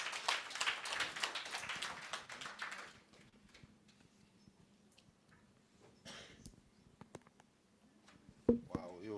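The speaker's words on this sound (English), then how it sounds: "Let's give a big round of applause to the PSTF Chief Secretariat, Dr. Thamsanqa" Audience applause, many hands clapping densely for about three seconds, then fading into a quiet room with scattered taps and small noises.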